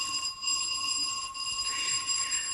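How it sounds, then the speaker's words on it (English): A doorbell in a radio drama sound effect, heard as steady sustained bright electric ringing tones held for a couple of seconds over faint background hiss. "I do believe that is the doorbell, Angel."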